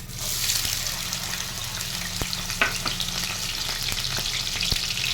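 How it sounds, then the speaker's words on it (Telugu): Sliced onions sizzle and crackle steadily in hot oil with a little kasuri methi for a dried prawn curry, a close, continuous frying hiss with occasional stirring clicks. "ఆనియన్స్ మంచిగా రెడ్ కలర్ అయ్యేదాకా ఫ్రై చేసుకుందాం."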